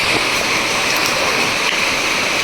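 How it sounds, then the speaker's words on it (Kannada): Heavy rain pours down in a steady, dense roar that fills the whole moment without a break, loud and close. "ಜೋರು ಮಳೆ ಬರ್ತಾ"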